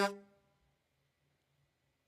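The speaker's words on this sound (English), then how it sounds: "Don't forget to honk the horn." One short, loud car horn honk opens the moment and then dies away quickly into near silence.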